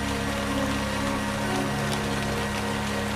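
Steady rain in an interactive children's story game about a little fennec fox, a continuous even hiss of falling drops with no talk over it.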